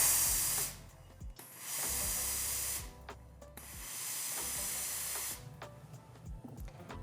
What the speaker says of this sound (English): It's best to release the steam 3 times with IZZI Plus to avoid water droplets.